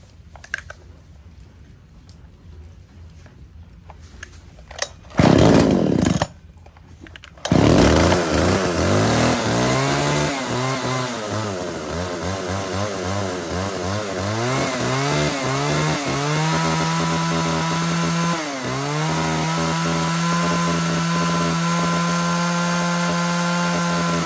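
A used Japanese 34cc chainsaw engine starts with a couple of loud bursts, then settles into a steady, close, continuous buzzing run with a brief dip in revs near the end.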